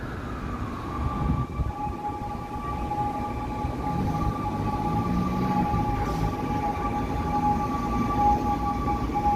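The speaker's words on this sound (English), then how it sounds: "Sounds like a European siren." A European-style siren wails at a distance on a muggy downtown Toronto street, its steady, slightly sliding tones sustained over a dense bed of traffic rumble and city noise.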